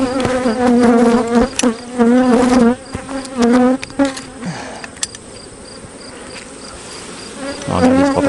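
Honeybees buzz steadily and loudly around open hives during a honey harvest, a close, dense drone with wavering tones that fades somewhat midway and then swells again.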